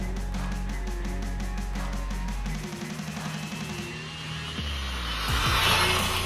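An RC car running a ZTW 60A ESC at full throttle gives off a loud, rising electric motor whine with pulsing tones. It then dips, surges again and ends in a rushing burst, with no talk.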